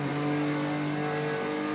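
Race car engine in a Nurburgring racing video game holds a steady, droning high-revving note, loud and continuous throughout, with no talk over it.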